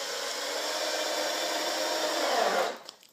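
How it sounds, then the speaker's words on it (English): Power tool driving screws down through panels held together, a loud steady motor whine running unbroken for over two seconds before spinning down and stopping. "just driving screws right down through this"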